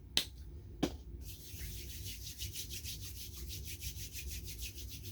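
Hands rubbing together after liquid grip drops are applied, a soft, rhythmic, close swishing friction that follows two sharp clap-like slaps.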